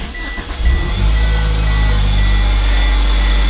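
A previously flooded Eclipse catches after a brief starter crank and settles at once into a loud, steady idle with a deep low rumble, heard up close.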